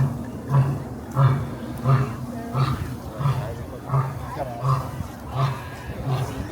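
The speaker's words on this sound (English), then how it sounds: "You hear that lion roaring over there?" A lion roars repeatedly at the Cincinnati Zoo during a busy Festival of Lights evening, a steady series of deep, rhythmic grunting roars about every two-thirds of a second, carrying from a distance over crowd murmur.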